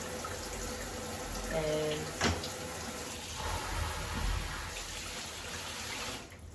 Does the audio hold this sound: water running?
yes